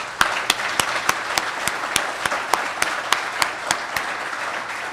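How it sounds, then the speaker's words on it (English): Audience applause for Chief Nord at a village ceremony, steady and fairly loud crowd clapping lasting throughout, with sharper individual claps popping out at a regular rhythm. "Can I have a round of applause for Chief Nord before the ceremony starts?"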